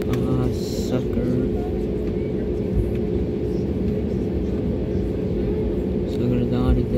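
Airliner taking off from Frankfurt, heard from inside as a loud, steady engine roar and rumble that fills the whole stretch without letting up.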